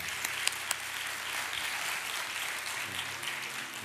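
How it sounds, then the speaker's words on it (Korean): Warm applause from a congregation at an early-morning church prayer service encouraging a pastor, steady and moderately loud, with a few sharper individual claps near the start. "박수로 우리 격려하겠습니다."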